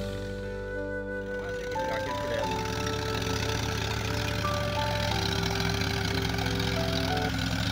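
A tractor engine runs steadily in a farm field, a loud, close, continuous droning rumble with a mechanical whine layered on top, holding constant throughout.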